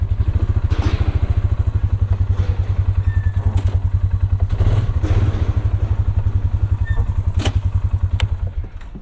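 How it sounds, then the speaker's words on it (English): A mid-size ATV engine chugs steadily as the four-wheeler drives up into the bed of a Ford Maverick pickup, with thumps and clatter of the loading over a loud continuous motor rumble. "you can fit a mid-size four-wheeler in the bed of the Ford Maverick"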